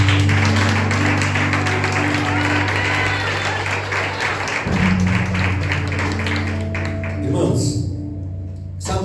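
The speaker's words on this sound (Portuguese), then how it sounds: "Agora aplauda o Senhor bem forte." A church congregation applauds loudly and steadily for about nine seconds, the dense clapping layered over sustained music chords.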